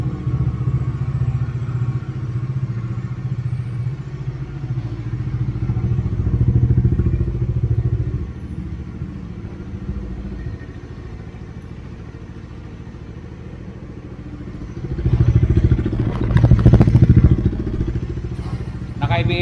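Bajaj Dominar 400cc motorcycle with ABS, engine idling steadily at close range with a low rumble, swelling louder near the end; people talk nearby.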